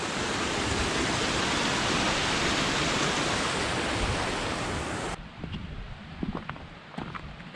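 Creek water rushes steadily beneath a hiking bridge, a loud continuous wash for about five seconds before it drops away to quieter outdoor sounds with a few light knocks.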